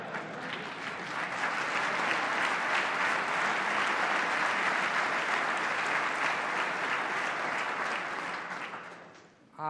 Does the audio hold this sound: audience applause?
yes